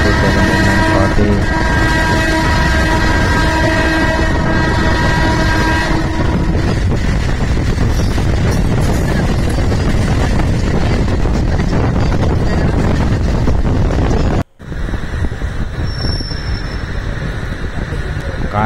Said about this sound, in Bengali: goods train but car carrier